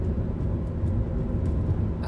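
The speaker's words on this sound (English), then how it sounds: "This car feels so much louder since it's been fixed." Steady, loud low-frequency rumble of a car engine and road noise from inside a car driving on a commute, a continuous drone with no talk.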